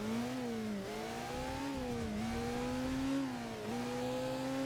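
Steady engine drone of a car weaving through traffic in the video game Headhunter, its pitch rising and dipping with gear shifts and throttle changes, loud and continuous with no talk.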